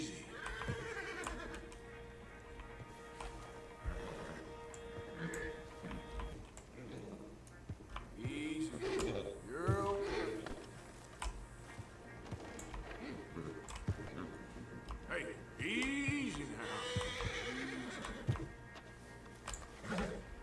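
A horse neighs and whinnies several times in Red Dead Redemption 2, fairly faint amid ticking and clicking sounds, with someone speaking at points.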